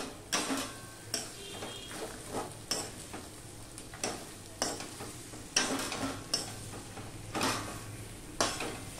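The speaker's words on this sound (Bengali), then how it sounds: "এই যে কাটছি খুন্তি দিয়ে, একেবারে মচমচে হয়ে ভেঙে যাচ্ছে" A metal spatula breaking and stirring crispy, reddish-fried fish heads in a pan: a run of sharp scraping clatters and crunches at irregular intervals over a low sizzle, close and moderately loud, with no voices.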